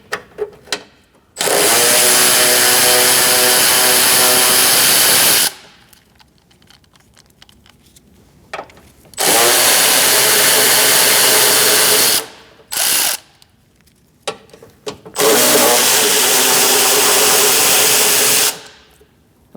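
A power ratchet or impedance driver with a 10mm socket whirs loudly in three long bursts and a short blip, pulling bolts during AC condenser work on a 2006-2011 Chevrolet HHR, with quiet pauses between.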